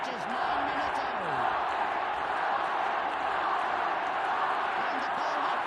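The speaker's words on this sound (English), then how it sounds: "And the Galway crowd chanting, Galway, Galway, Galway" A large crowd at the 1983 All Ireland Football Final between Dublin and Galway, a steady dense roar of Galway supporters chanting, distant and continuous, with commentary over it.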